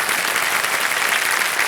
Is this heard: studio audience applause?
yes